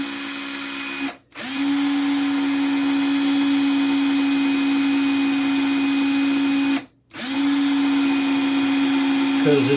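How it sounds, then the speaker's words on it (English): Power drill boring out a stuck screw on a ceiling fan, running loud and close with a steady high whine in three long bursts split by two brief stops, with no talk. "So try to drill out this screw that gave you such a hard time."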